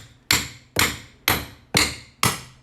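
Hammer blows knocking tiles off a cement floor in a garage bathroom, five sharp, loud, evenly spaced impacts that ring out briefly after each strike.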